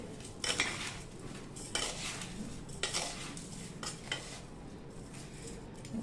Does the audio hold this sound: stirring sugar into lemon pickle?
yes